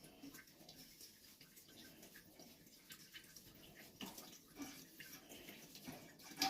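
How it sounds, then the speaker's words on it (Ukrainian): Grape juice trickles and drips from squeezed grape pulp during homemade semi-sweet wine making, a faint, continuous watery patter with small splashes close by. "Тече гарно ще там у жмаках."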